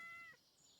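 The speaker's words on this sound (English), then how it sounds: "Oh, my cat." A cat in a cozy video game gives a single short, faint meow that fades within a second, with no talking.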